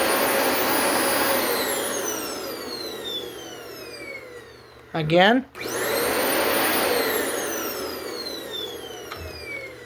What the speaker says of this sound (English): here comes the Dyson in 3